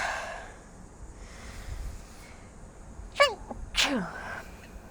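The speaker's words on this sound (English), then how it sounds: "Excuse me, I'm going to sneeze." Two sharp sneezes in quick succession, close up, with a quiet room tone in between.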